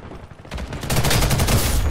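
Rapid automatic gunfire in the Ghost in the Shell shooter game, starting sparse and then becoming a dense, loud, continuous burst of shots for over a second.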